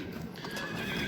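At an outdoor horse market in Alay selling horses for ulak, hooves clip-clop and a horse whinnies, brief and moderately distant against faint background bustle.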